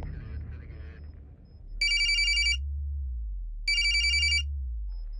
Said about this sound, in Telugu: సార్ రింగ్ అవుతుంది.